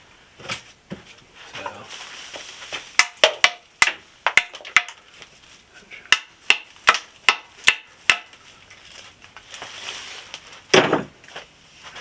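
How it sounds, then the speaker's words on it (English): Sharp hammer blows knock bone off whitetail deer antlers for a taxidermy mount, in irregular bursts, some in quick succession, close by with faint rustling between strikes. "we can just simply take a hammer, do that, and knock them off here"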